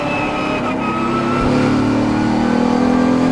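A Mercedes-AMG GT4 race car braking and downshifting into a corner during night practice at the Dubai 24 Hour, heard from the cockpit as a loud, continuous engine drone that shifts pitch, with a brief blip in the middle.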